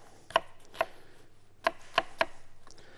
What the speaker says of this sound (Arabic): البصل بنقطعه الاثنين وكل نص صايه بناخده كده مع بعض وبعد كده بناخدها لشرايح